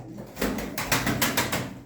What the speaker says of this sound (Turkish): Benekli kuşlar